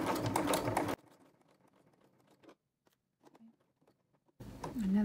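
A sewing machine stitches elastic onto a fabric Kindle holder: a loud, fast run of stitching, then quieter intermittent ticks and clicks, and a final loud burst.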